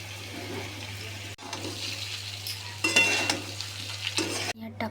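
Poha being stirred and mixed in a kadhai, with steady scraping and stirring of the flattened rice against the pan, a constant low hum underneath, and a brief louder burst of clattering partway through.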